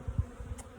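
Honeybees at a farm hive busy with comb, nectar and pollen give a faint, close buzz with a few soft wingbeat thumps.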